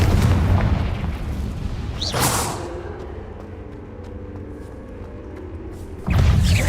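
Fiery spell blasts from Hogwarts Legacy burst out as booming explosions, one sharp crack early on and another heavy boom near the end, with rumbling decay in between and no voices.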